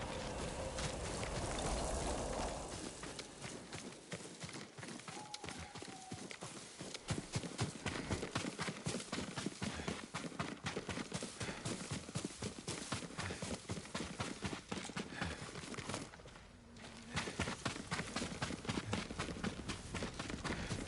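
Rapid drumming hoofbeats of a running horse in Ghost of Tsushima carry on continuously over a dense wash of background game sound, briefly dropping out near the end.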